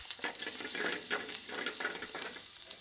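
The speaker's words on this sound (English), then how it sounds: "Heat some oil in a frying pan to a high heat. Add 1 whole dried red chilli and 1 pinch of cumin seeds to the oil." Whole dried red chilli, cumin seeds and chopped ginger frying in oil heated high in a frying pan, a dense close sizzle with bright spitting crackles throughout, no voices.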